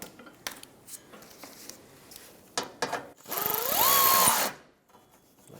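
A power tool tightens rear bumper bolts on a 1996-2002 Toyota 4Runner, with a few short handling clicks first, then one loud rising whir of the tool lasting about a second before it stops.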